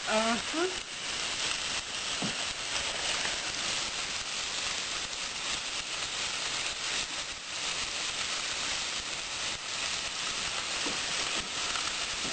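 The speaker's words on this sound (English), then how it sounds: "We'll hear it sizzle." Steady broadband sizzling and crackling from ground beef frying in a hot pan, continuous throughout, with a few brief clinks and soft noises on top.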